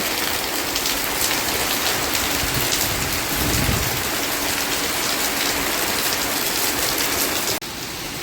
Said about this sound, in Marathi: मंडळी बघा किती पाऊस वाढलाय